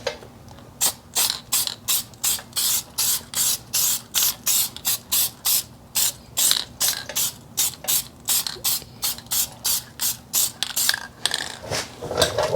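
Short rhythmic bursts of HyperDip PlastiDip spray from a handheld sprayer, laying light tack coats on Toyota 4Runner wheels, about thirty hisses in a steady near pulse with brief pauses between, no talking.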